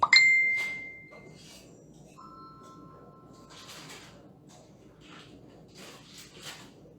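A kitchen scale gives a bright, high chime at the start, followed by a softer two-tone beep partway through, set against quiet kitchen room noise while butter is being prepared for sweet pastry dough.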